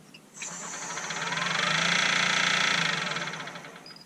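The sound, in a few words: wood lathe spinning at 1700 RPM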